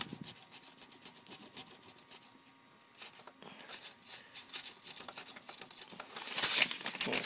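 Paper dragged under the extruder nozzle of an Ultimaker 3D printer, two sheets thick, giving a dry rasping rub in short scraping strokes that grow louder and rougher toward the end, close up with no talk.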